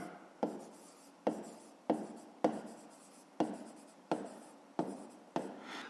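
A pen writes out a fifth-grade maths solution on paper in about eight quick, regular strokes, each a soft scratch with a sharp start, quiet and close, with no talk.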